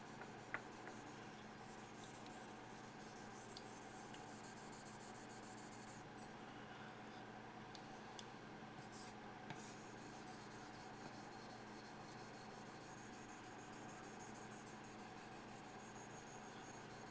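Yanagi knife blade stroked across a Han-Han whetstone, a faint, steady rasping rub repeating evenly throughout with no voices.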